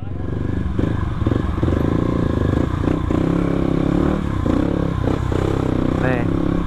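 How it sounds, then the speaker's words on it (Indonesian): Dirt bike fitted with a local aftermarket exhaust on a test ride, its engine a loud continuous drone with rhythmic throttle pulses and rattling, close to the rider throughout. "gua sengaja kasih video tes jalan gini biar kalian bisa bandingin nanti suaranya sama FMF"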